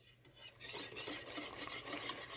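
A utensil stirs oatmeal in a pot on the stove, giving soft rhythmic scraping and rubbing strokes, close and fairly quiet, with no voices.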